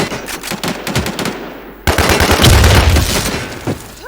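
Rapid automatic gunfire comes from the shooter video game WarZ, loud and close. Dense bursts of shots run throughout, with a harder burst partway through.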